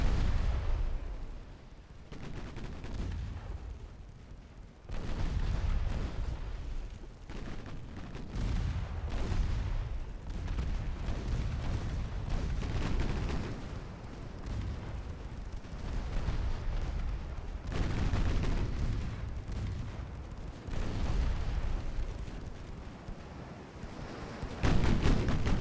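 Naval guns boom repeatedly in a battle in Ultimate Admiral: Dreadnoughts, heavy rumbling salvos rolling one after another with deep low blasts and sustained roar, loud and close with no talking.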